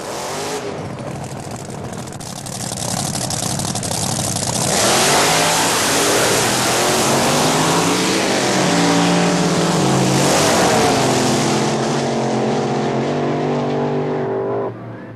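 Supercharged, fuel-injected big-block Chevy drag race cars with large rear wings, plus a Chrysler Hemi-powered door slammer, launch and race down the strip: a loud, sustained roaring engine blast that rises in pitch as they accelerate, with no speech.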